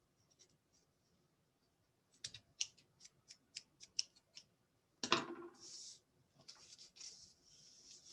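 Scissors snip through beading material or thread for a garland, a quick run of about nine crisp, evenly spaced cuts followed by a louder rustling slice and a scrape, close and alone with no talk.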